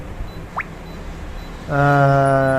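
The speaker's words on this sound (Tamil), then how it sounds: "இந்த P4ங்கிறதுக்கு வந்து லாங் பீப் வருது." A Daikin inverter air conditioner's outdoor PCB gives a long, steady electronic error beep that starts partway through and holds loud and tonal to the end, with faint background noise before it.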